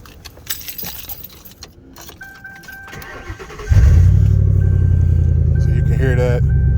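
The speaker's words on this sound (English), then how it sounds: "I'm gonna start the car, just let y'all hear, the engine and the idle and stuff like that" Keys jangle and rattle near the ignition of a used car with 118,000 miles, then the engine cranks and catches, settling into a steady, loud idle that runs to the end.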